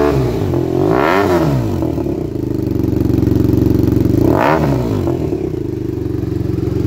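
BMW 800 motorcycle fitted with an M4 stainless steel exhaust, revving hard twice over a steady loud idle, each rev sweeping up and falling back, close by and alone.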